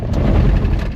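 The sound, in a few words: truck driving on gravel washboard road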